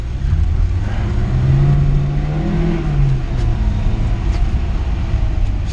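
A VAZ-2106 car engine with an idle fault runs close by with a steady low rumble and slight swelling revs, loud and alone without talk.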